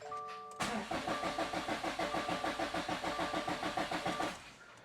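A Subaru engine cranks after a short quiet pause, then catches and runs with a steady, pulsing, rhythmic chug for several seconds before cutting off, loud and close with a faint tone at the start.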